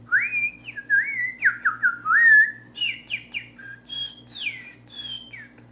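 Whistled language, a series of clear melodic human whistles gliding up and down in pitch, phrased like speech syllables in short bursts, close and loud over a faint steady low hum.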